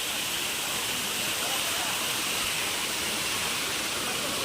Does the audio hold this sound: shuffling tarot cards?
no